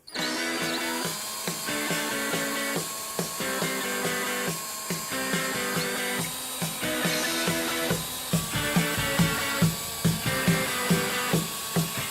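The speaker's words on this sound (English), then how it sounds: "So first we'll get some cutting compound on our pad, and we'll spread it around, then we'll start polishing." A power polisher with a wool pad and cutting compound works on a hazy car headlight. It gives a loud, steady, tonal machine whine that pulses rhythmically as the pad moves across the lens.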